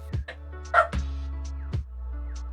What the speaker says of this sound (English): the sounds of dogs barking from beyond the door